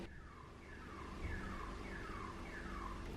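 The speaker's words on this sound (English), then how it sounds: "as I press the record button, a car alarm goes off religiously every time" A car alarm wails outside in a steady repeating cycle of falling siren sweeps, five rises and drops in quick succession, moderately faint and distant with no talking over it.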